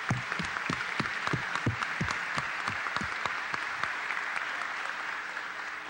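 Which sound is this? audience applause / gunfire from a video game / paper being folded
audience applause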